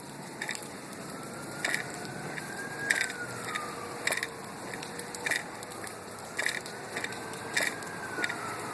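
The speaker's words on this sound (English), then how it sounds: "You hear the sirens?" A siren wails in the distance in Henderson, Nevada, its pitch slowly rising and falling across several cycles, with rain patter and dripping clicks in the foreground.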